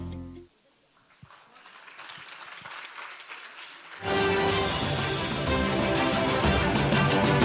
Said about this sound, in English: I think that applause can be better.